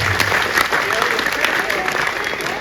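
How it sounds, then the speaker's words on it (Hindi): Audience applause at a Hindi kavi sammelan poetry recital, a dense, steady round of clapping from a large crowd that sustains throughout at fairly loud level. "दोनों हाथ उठाकर ताली बजाएं।"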